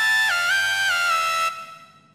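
A bright Serum trap lead synth with hall reverb plays a sustained buzzy line with pitch bends and slides, loud and alone, then its reverb tail rings out and fades.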